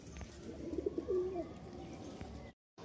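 A female racing pigeon coos softly in a short warbling burst amid faint room noise, followed by a moment of silence.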